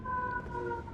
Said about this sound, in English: Sorry about the ambulance outside.